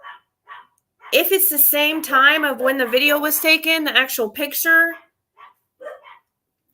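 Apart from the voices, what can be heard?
dogs barking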